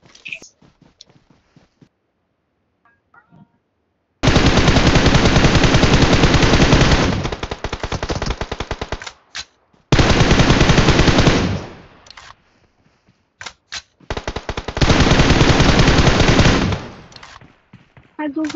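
Automatic gunfire in the video game PUBG rattles out in long, loud bursts of rapid shots, separated by short pauses and scattered single clicks.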